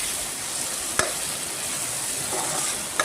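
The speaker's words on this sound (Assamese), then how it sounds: "বিলাহী দি ধুনীয়াকৈ ভাজি ল'ম" Tomatoes and onions fry in a pan for masala chicken, giving a steady close sizzle with a sharp clack of stirring near the start and another at the very end.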